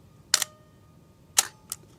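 Olympus OM4 camera set to manual at a 1-second shutter speed: two sharp, close mechanical clicks about one second apart, then a softer third click, with no talk.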